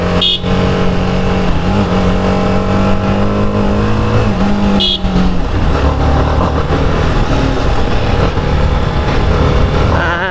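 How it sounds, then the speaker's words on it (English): A 2021 TVS Apache RR 310 motorcycle engine runs loud and close throughout, with a steady drone and a couple of brief rising revs near the start and middle, with no talking. "So you need to rev it a tad bit, and that's a good thing."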